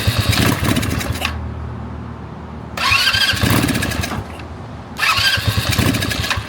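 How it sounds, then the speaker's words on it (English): A small go-kart engine catches and revs in three loud, raspy bursts. It drops back to a rough, sputtering idle between them. "we did get the go-kart running last night"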